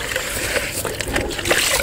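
A pigeon's water container is washed by hand, giving close, irregular splashes and sloshing bursts of water in quick succession.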